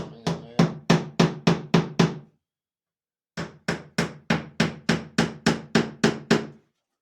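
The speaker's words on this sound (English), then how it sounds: "Get you a little piece of wood and your hammer." A hammer taps wooden pegs down through a small piece of scrap wood in a woodworking shop, two close, crisp bursts of about seven evenly spaced knocks each, separated by a short pause, with no talking.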